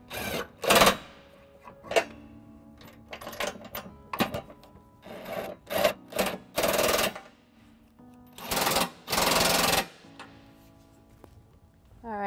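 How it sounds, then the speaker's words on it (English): A cordless impact wrench with an 11/16 socket tightens trailer hitch nuts on a 2014 Subaru Forester, with several short rattling bursts followed by two longer bursts near the end, close and clear. "we're going to use a cordless impact, 5-inch and 11/16 to tighten up the nuts"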